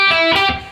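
Electric guitar playing a short lick from the solo in an E pentatonic minor shape: a few sustained, distorted notes, close and fairly loud with no voice, the last note fading away.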